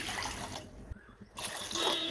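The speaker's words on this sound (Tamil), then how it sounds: "இப்போ ஜெல்லி செய்யறதுக்கு ஒரு பாத்திரம் வந்து வச்சுட்டு அது வந்து 500 ml தண்ணி வந்து சேர்த்துக்கலாம்" Water pours into a pot, about 500 ml for making jelly, in a close, steady trickle and splash that briefly breaks off and then resumes, with no one talking.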